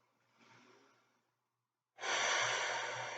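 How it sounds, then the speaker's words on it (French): A person takes two slow, deep breaths during a calm relaxation exercise, a soft inhale followed after a pause by a louder, fuller exhale, close and alone. "nous allons effectuer des respirations un peu plus amples"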